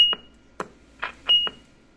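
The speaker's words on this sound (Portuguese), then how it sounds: "ele vai ativar a função bip, que vem desativada" Short electronic beeps from a Voyager VR-148GTL handheld radio's beep function, a few sharp tones with clicks between them, close and clear in an otherwise quiet room.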